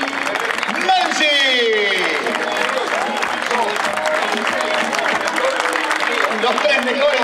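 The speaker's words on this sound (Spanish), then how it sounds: "Fuerte el aplauso para el púgil" Crowd applause at a 200 cc speedway final in Bahía Blanca, steady dense clapping throughout with a loud announcer talking over it.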